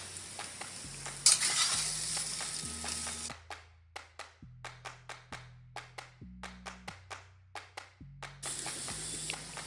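Potato filling for Mumbai-style vada pav sizzles in a hot pan while a spoon stirs it in steady scraping strokes, the frying hiss swelling and fading with regular clinks against the pan and no talking.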